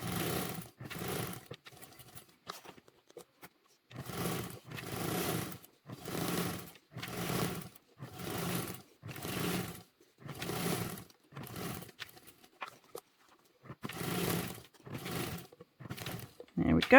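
A sewing machine topstitches a duffle bag in repeated loud, close bursts of steady motor whirring, each run a second or so long, separated by brief pauses.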